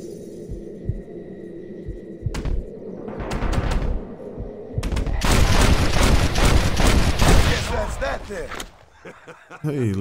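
Rapid bursts of gunfire from the Western video game Red Dead Redemption, a dense volley of shots building into a sustained loud fusillade before cutting off, with a voice talking briefly beforehand.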